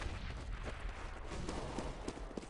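A high-explosive grenade detonates in Counter-Strike: Global Offensive, a faint, dull burst with rumbling aftermath amid scattered gunfire and game noise.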